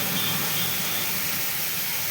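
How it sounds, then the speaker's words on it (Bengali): Jackfruit pieces fry in a pan with salt, giving a continuous, dense, even sizzle that stays loud and close throughout with no speech. "ভাজা করে নিচ্ছি।"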